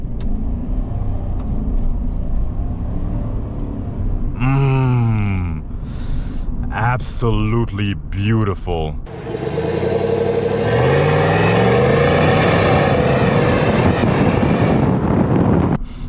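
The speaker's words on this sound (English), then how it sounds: "And if we do a light exhaust rev," A 2025 Chevy Silverado truck gives a light exhaust rev, a rising engine roar that swells near the microphone, with wind noise and a person speaking briefly before it.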